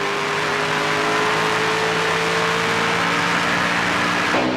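An old Dodge race truck's engine roars loud and steady in high gear at the 2009 Dickies 200, a sustained droning whine with a slowly shifting pitch and a sharp change near the end.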